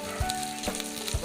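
Previously fried ingredients hitting a hot pot, a dense close sizzle with a couple of low thumps and clinks as the pieces go in, continuous throughout.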